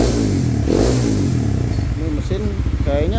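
A Honda CB150X motorcycle engine fitted with a Kawasaki Ninja 250 exhaust revs loudly with a deep, rumbling exhaust, rising and falling, while someone talks over it.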